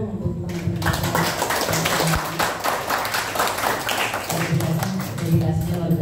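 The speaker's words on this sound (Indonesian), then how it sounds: "Tepuk tangan dulu dong untuk teman-teman." An audience applauds at an Indonesian police community outreach event, steady dense clapping across the whole stretch, loud and close, with a speaker's voice running over it.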